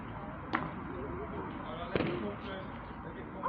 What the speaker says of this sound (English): there's something wrong with that firework